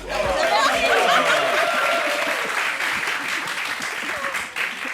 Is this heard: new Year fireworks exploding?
no